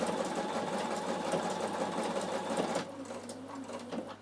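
A Bernina sewing machine runs steadily at a slow, even pace while stitching a decorative pattern, the needle's rapid close-up chatter continuing for a few seconds before easing off.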